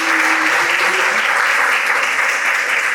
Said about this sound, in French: Est-ce qu'on peut les applaudir déjà pour commencer?